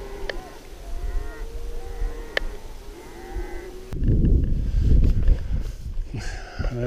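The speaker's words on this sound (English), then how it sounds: "Can you hear those cows?" Cows lowing in a field by the Henry's Fork of the Snake River in Idaho, a few long moos over the first half, then a gusty rumble of wind or movement takes over with faint calls behind it.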